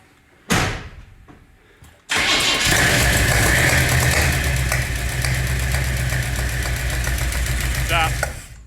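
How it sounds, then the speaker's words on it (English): A worn engine with loose valves cranks and catches, then settles into a loud, steady idle that runs on. A door-like thump comes first, then a short pause before the start. "All right, buddy, fire it up."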